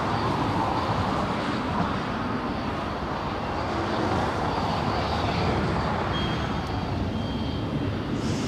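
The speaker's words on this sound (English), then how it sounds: "747 coming in." Boeing 747 cargo plane landing at Los Angeles International Airport, a steady loud broadband jet roar and rumble sustained throughout at a distance, with no talk.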